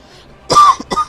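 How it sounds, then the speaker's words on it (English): A character coughs in the Final Fantasy XIV: Endwalker story, a loud rough cough followed by two shorter hacking bursts, close and sudden after a brief quiet lead-in. "I've been holding in that cough."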